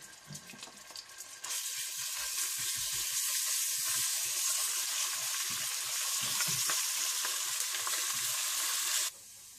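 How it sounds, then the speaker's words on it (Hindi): Ground ginger and garlic paste hits hot oil in a pan and sizzles steadily, a loud, close, continuous frying hiss that runs for about eight seconds and then drops away. "इसमें आप पिसा हुआ अदरक लहसुन डाल दें"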